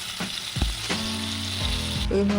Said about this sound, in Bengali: কড়াইতে তেল গরম করে তাতে কালো জিরে ও কাঁচা লঙ্কা ফোড়ন দিলাম দিয়ে সেটাকে ভালো করে নেড়ে ছেড়ে এরপর একে একে সমস্ত মাছ দিয়ে দিলাম